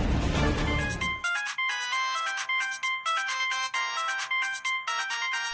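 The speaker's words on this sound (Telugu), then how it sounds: "రింగ్ అవుతుంది." A mobile phone ringtone plays a bright, repeating electronic melody in loud, evenly pulsed phrases after a brief burst of noise at the start.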